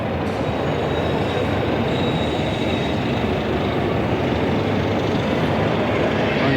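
The Flying Scotsman steam locomotive on the York turntable gives a loud, continuous, close rumble with metallic wheel squeal running throughout.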